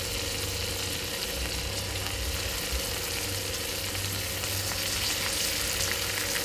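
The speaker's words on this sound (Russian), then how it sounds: "у нас практически осталось пожарить говядину" Beef sizzles in a hot pan, a loud, continuous frying crackle and hiss that stays steady from start to finish with no talk over it.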